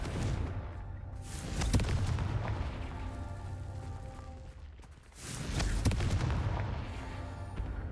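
Booming fire-blast spell explosions go off in Hogwarts Legacy, two heavy swelling blasts a few seconds apart over a low rumbling game soundscape.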